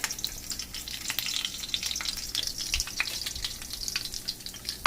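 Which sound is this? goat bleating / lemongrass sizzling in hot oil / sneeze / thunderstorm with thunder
lemongrass sizzling in hot oil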